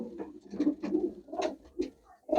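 Pigeons coo close by in a series of soft, throaty rolling calls with short pauses between them, quiet and alone without talk.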